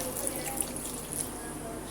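Water pours steadily into a cooking pot of chicken, lentils and spices for chicken shami kabab, a continuous close splashing stream that runs unbroken for a couple of seconds.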